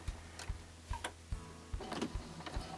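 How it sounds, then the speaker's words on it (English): A sewing machine stitches fabric in short bursts of quiet, regular mechanical ticking, forward and back to lock the seam, with faint clicks and whirs between. "I'm going to do a couple of stitches forward and a couple stitches back to lock everything in place"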